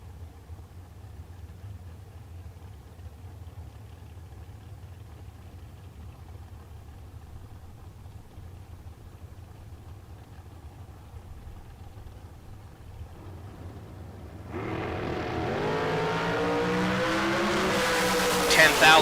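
Dragster engines at the starting line of a bracket drag race, a low idle rumble under talk that swells into a loud, rising rev near the end.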